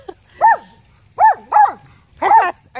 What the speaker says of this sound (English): are you gonna bark all day or are you gonna get it?